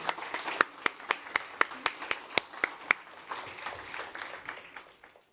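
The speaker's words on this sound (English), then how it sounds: "Big round of applause for Rachel and Kate." A summit audience claps, a run of crisp, evenly spaced claps standing out over a scattered patter of applause that thins and fades toward the end, moderately distant.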